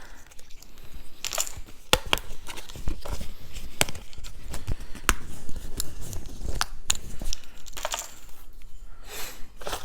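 Cardboard tokens are punched out of a die-cut board game sheet, giving a dense run of sharp snaps, pops and papery crinkles close to the microphone for about ten seconds, with no talking.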